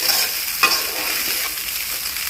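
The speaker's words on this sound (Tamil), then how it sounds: "முட்டை சாதம் இப்போ ரெடி ஆகிட்டு இருக்கு" Egg rice stir-fried in a pan, a steady close sizzle with a spatula stroke scraping through partway, continuing alone without voices.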